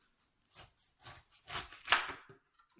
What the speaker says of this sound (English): Slicing pineapples. This handy dandy pineapple slicer.